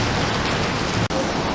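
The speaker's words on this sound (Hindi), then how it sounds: "अभी हम यहाँ बारिश में फंसे हुए हैं," Rain falls steadily in a city in Guatemala, a loud, even hiss of downpour with no voices over it and a brief dropout partway through.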